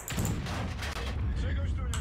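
Dense bursts of video game gunfire, loud and close, running almost without a break for two seconds.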